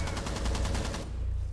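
Rapid automatic gunfire from the video game Rainbow Six Siege rattles in a steady burst for about a second, then cuts off, leaving quieter game ambience.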